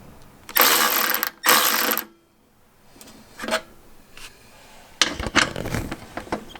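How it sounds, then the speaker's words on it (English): A hand ratchet backs out 12mm bolts on the radiator support of a Toyota GT86, giving two quick bursts of rapid clicking, a few lighter clicks, then a longer rattling run near the end. "So there's 3 12mm bolts that I'm gonna take off"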